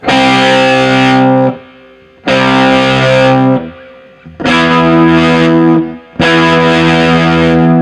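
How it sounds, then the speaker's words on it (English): An electric guitar with hot pickups plays through a fully cranked amp, giving a fuzzy, overdriven tone: four loud sustained chords, each ringing for about a second and a half with brief gaps between them, no talking. "we do have the amp dimed, but okay, so we're getting in some fuzzy territory even just with the amp on its own"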